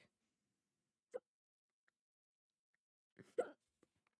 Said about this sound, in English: I have the hiccups now